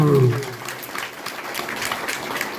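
A church congregation at a Hindi prayer service claps in thanks to the Lord, scattered, moderately loud applause that follows a brief voice at the start.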